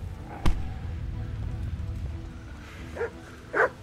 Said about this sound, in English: Oh god, they got a dog.